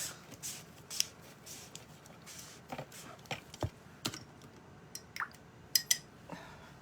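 Paper for decoupage being cut for a rustic chalk-painted birdhouse craft, heard as soft, scattered snips and crisp rustles of sheet paper, close and fairly quiet, with no talking.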